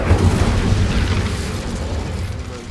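An Incendio fire spell cast in the game Hogwarts Legacy, a dense, loud burst of low rumbling whoosh that holds steady for nearly three seconds before easing slightly, close and alone.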